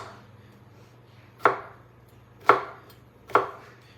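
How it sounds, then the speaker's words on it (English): Three separate knife chops on a cutting board, spaced about a second apart, as a zucchini already cut into thirds is sliced into long skinny strips; each stroke is crisp and close against a low steady hum. "We're going to cut the zucchini in long skinny strips after I already cut it in 3rds."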